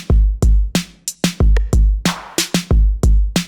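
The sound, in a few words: saturation effect on drum beat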